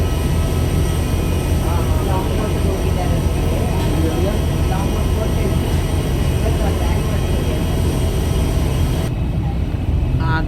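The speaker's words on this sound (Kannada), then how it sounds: "ಪ್ರೈವೇಟ್ ಏರೋಪ್ಲೇನ್ ನೋಡಿ, ಸಣ್ಣದು." A small private aeroplane at an airport gives a steady, broadband engine roar that fills the whole stretch, with voices talking over it.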